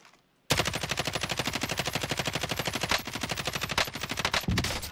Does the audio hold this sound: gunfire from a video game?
yes